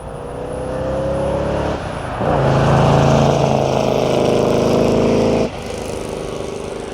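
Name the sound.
1967 Chevrolet Corvette driving past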